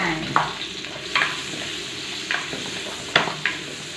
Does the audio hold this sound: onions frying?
yes